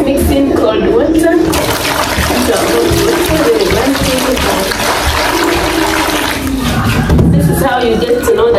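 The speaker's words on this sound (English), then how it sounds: "let's mix in cold water" Cold water is poured into hot water in a rural Ugandan village, making a continuous splashing, gurgling pour that runs close and loud for several seconds while someone talks over it.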